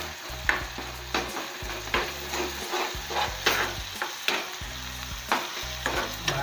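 Masala paste being sautéed in a pan for a jackfruit curry, a quiet sizzle punctuated by regular, repeated scrapes and clunks of a spoon stirring against the pan.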